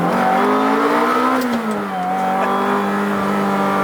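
A Ferrari F355 engine revs inside a tunnel, a loud, sustained, reverberant roar with rising and falling pitch over about four seconds, no talking.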